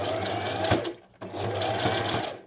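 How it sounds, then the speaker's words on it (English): Sewing machine stitching lace onto the bottom hem of a skirt, a fast steady whirring run that pauses briefly near the middle before resuming, close and clear. "So we're just going to sew lace at the bottom"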